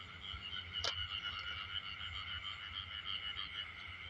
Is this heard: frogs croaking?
yes